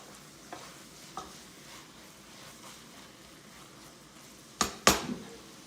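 Ground pork stirred in a pot for French Canadian creton, a soft low scraping and sizzle running steadily, with a couple of louder spoon knocks and clatters near the end.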